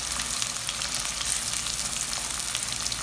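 Thinly sliced long onions frying in oil with a spoon stirring, a dense, steady, crackling sizzle close up and unbroken throughout.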